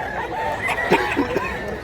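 Rooster on a mountain farm giving short clucks and a brief, rough crowing call up close, over a noisy outdoor background.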